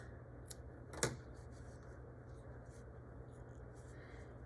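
A quick scissor snip cutting a crocheted yarn end, one short sharp click near the start followed by soft handling sounds at low level.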